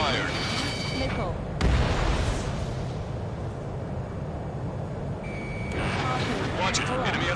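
Ace Combat 7 missile lock-on warning in the video game: a steady, high electronic warning tone sounds twice, once at the start and again later, over rumbling jet engine and explosion noise.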